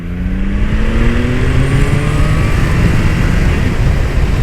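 A Triumph Tiger Sport 660 motorcycle accelerates hard through the gears, its engine note climbing in steady rising sweeps, loud and close throughout.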